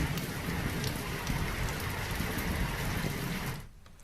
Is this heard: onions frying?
no